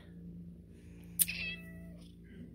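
A house cat gives a single short meow in a quiet room, close and moderately loud, with a steady low hum underneath.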